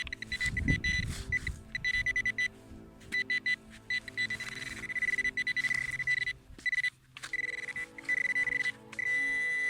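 A metal detector sounding off over a solid, shallow target in a UK field, giving a loud, clear, steady electronic tone that repeats in pulses with short breaks.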